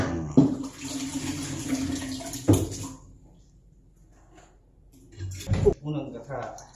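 First coconut milk squeezed by hand from grated coconut: a wet liquid splashing and trickling into a bowl in uneven bursts, close by, with a voice talking over it.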